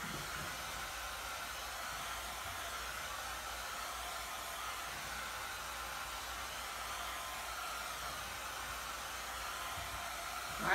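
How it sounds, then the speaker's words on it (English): A blow dryer runs steadily at close range, a constant airy whoosh with no change in pitch or speed throughout. "we have to go back to the blow dryer. It's time to blow it dry again."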